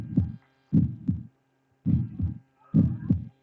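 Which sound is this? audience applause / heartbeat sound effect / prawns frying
heartbeat sound effect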